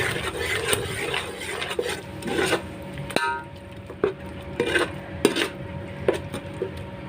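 A spoon scrapes and knocks around a pot while a tomato, green chilli and curd mixture is stirred, close clinks and thuds at an uneven pace over a low hum, no speech.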